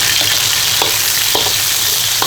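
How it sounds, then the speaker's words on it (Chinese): Ginger and scallions fry loudly in a hot pan, a dense continuous sizzle close up with a few brief scrapes and clinks of stirring, no voices. "姜葱下锅，"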